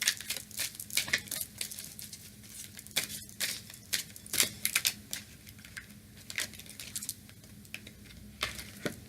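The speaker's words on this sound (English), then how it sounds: "I'm going to shuffle for this one." Tarot cards being shuffled by hand, a steady run of crisp riffling and papery flicks with short bursts and pauses, close and fairly quiet, with no talking.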